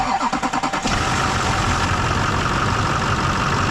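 A tractor engine cranks in a quick series of rhythmic chugs for under a second, then catches into a rough, loud, close running roar that holds to the end.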